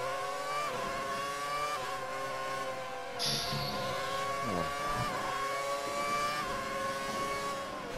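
A race car engine in the F1 2019 video game revving hard at a high-pitched whine, rising and dipping through gear changes, with a brief hiss partway through and other cars buzzing nearby. It stays loud and continuous, with no talk.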